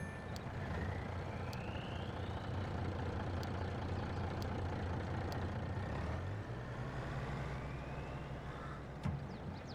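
Several trucks in Farming Simulator 22 drive and manoeuvre on the Elm Creek map, with a steady droning engine rumble throughout, a shift in engine note partway, faint reverse beeps and a brief hiss near the end.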